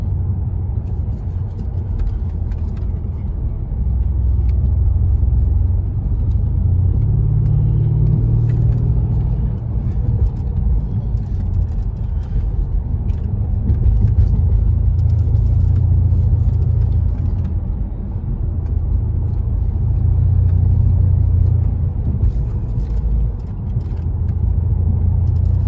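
A 2012 Mercedes S63 AMG cruises in automatic mode, its engine a steady low rumble with slow gear changes audible as brief dips and swells, along with tyre and road noise, loud and close with no talk.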